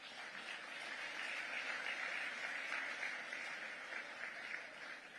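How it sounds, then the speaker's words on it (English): Audience members at an awards gala in New York applaud themselves, a steady wash of many hands clapping that swells slightly mid-way and tapers toward the end. "please give yourselves a round of applause."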